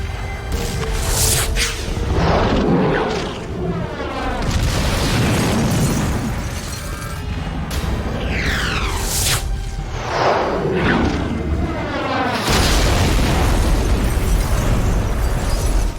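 Rocket explosions from an action film that culminates in a bomber carrying a nuclear warhead: repeated loud booms and bursts with whooshing swooshes between them, dense and continuous, ending in a heavy roaring blast.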